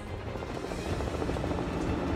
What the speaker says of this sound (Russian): Еще вертолет!